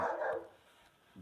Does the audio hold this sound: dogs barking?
yes